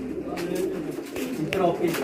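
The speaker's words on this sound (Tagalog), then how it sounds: "Ganda ng mga ibon dito." Racing pigeons in a breeders' loft coo softly in short repeated phrases, close and fairly quiet, with someone talking over them.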